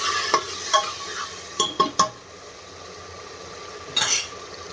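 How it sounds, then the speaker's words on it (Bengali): Chicken pieces being worked by hand with salt and turmeric in a bowl, a close sequence of wet squelches and light scrapes with several sharper knocks early on, then a quieter stretch and one more burst near the end, no talking. "এত সময় আমি একটু লবণ, মাংস আর একটু হলদি দিয়ে মাখিয়ে নিই"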